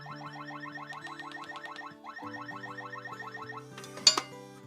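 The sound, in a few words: Wyze gun safe alarm after wrong fingerprint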